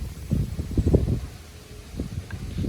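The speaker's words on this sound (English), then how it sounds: "Sorry about the wind, it's crazy windy right now." Strong outdoor wind buffets the microphone with a steady low rumble and gusting roar, swelling and easing over a couple of seconds, with no voices.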